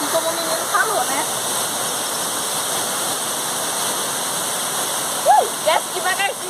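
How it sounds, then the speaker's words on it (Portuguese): Steady rushing water of the Véu de Noiva waterfall fills the scene, a constant broadband roar with splashing near the falls, while a person speaks briefly over it toward the end. "nós chegamos até a Cachoeira Véu de Noiva"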